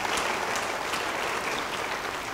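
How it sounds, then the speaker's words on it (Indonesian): A church congregation claps steadily in a dense, even wash of applause that holds at full strength for a couple of seconds, close and unbroken. "Yang mau beri tepuk tangan bagi dia."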